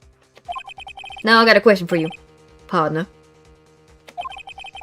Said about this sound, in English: I heard a phone ringing just now, one of those new fangled ringtones.